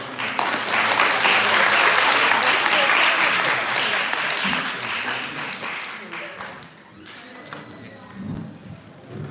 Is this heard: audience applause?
yes